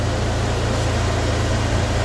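A rebuilt Honda K20Z4 engine swapped into a Civic EJ9 idles steadily at close range, a constant low drone with no voices over it.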